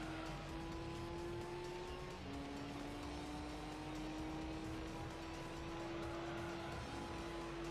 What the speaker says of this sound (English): God, that RX-7 is so fast.